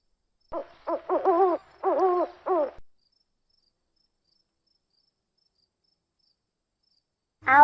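An owl gives a series of about five rhythmic hoots, close and clear, followed by several seconds of near silence before another call begins.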